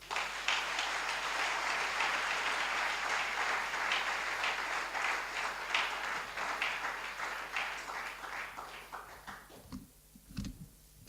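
A church congregation applauding during a Sunday morning service, a sustained wash of clapping that thins out and fades into near silence, with a few scattered claps at the close.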